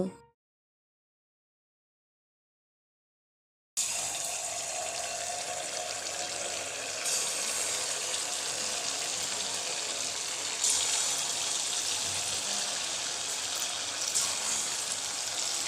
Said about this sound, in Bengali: একইভাবে বাকি ফুলুরিগুলো ভেজে নিতে হবে